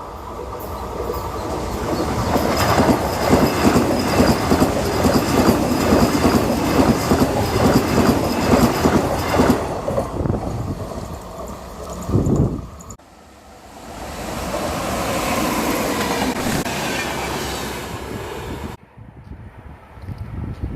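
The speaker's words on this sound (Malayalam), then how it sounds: "ട്രിവാൻഡ്രത്ത് നിന്ന് കോഴിക്കോടേക്ക് പോകുന്ന വന്ദേ ഭാരതാണ്" The Vande Bharat express from Trivandrum to Kozhikode passes near Mayyanad village in Kollam with a loud rushing rumble and wheel clatter that holds for about ten seconds, then fades and drops away.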